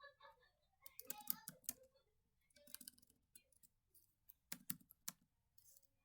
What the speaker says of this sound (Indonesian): Kita coba dulu untuk mengetik.